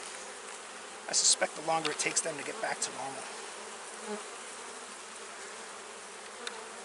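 Honey bees buzz around an open hive during an inspection, a steady low hum with a few louder passes near the microphone, as someone talks briefly.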